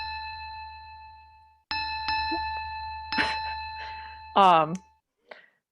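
Bell tones played as a handbell from a phone speaker, several separate ringing strikes with long sustained harmonic decay, close by, with a brief voice near the end.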